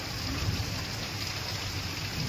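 Heavy rain pours steadily in a continuous dense hiss during a storm with lightning, loud and unbroken with no voices.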